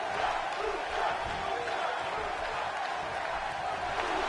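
A dense, steady roar of an arena crowd cheering in the wrestling video game WWE 2K18 fills the scene, loud and unbroken throughout.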